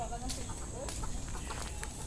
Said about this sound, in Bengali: এটাও কয়ে দেন যে এটা মুরগি